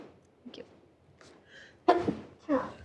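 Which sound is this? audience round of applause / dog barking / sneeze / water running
sneeze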